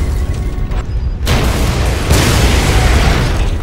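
Booming explosions and gunfire in the Codename Panzers 2 battle at Tobruk, with a low, continuous roar that swells abruptly twice into denser, louder blasts, no voices.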